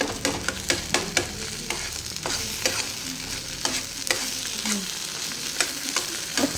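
Sheep head and brain curry frying in hot oil in a pan, a steady close sizzle with repeated sharp scraping stirs of a spoon every fraction of a second, no voices.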